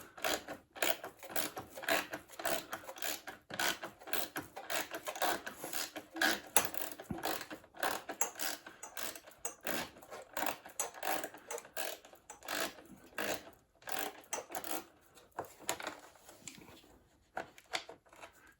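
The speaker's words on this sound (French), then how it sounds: "Et voilà, troisième vis enlevée." A screw is worked loose from the light fitting of a Can-Am Ryker, a long run of close, rapid ratcheting and rasping clicks with irregular bursts and short pauses, no voices.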